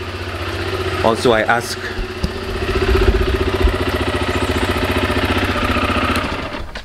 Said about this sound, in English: if you could hear the bike's actually warming up outside